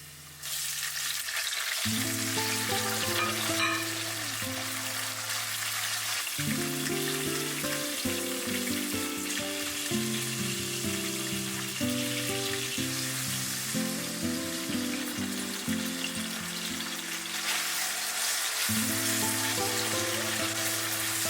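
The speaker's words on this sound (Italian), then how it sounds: "Prima facciamo cuocere un po' le patate, visto che i nostri fagiolini bolliscono nella pentola, prepariamo prima le patate, ho messo anche un spicchio di aglio" Potatoes fry with a clove of garlic in a pot, a steady close sizzle and crackle running throughout while music plays over it.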